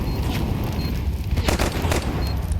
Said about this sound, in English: Bullets going wide. Bullets missing.